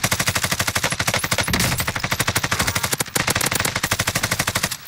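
Rapid automatic gunfire from Warzone in Verdansk, long continuous bursts of machine-gun fire with steady rhythmic shots, loud and close, with a brief pause near the middle.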